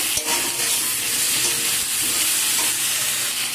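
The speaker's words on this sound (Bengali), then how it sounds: "সব কিছুকে ভালো করে আবারও নেড়ে নিচ্ছি।" Fish curry masala with potatoes sizzles and fries steadily in a pan while being stirred after salt goes in, a loud continuous hiss with soft scraping, no talking.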